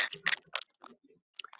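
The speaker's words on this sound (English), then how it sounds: "I hear a bunch of crunching." Crunching noise coming over a caller's phone line: a series of irregular, crackly bursts, some clustered and some isolated, moderately loud with short silences between.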